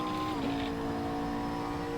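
Race car at full throttle in Assetto Corsa, a steady sustained engine drone with a tone that shifts slightly early on, then holds loud and even throughout.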